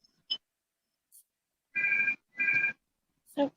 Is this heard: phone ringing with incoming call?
yes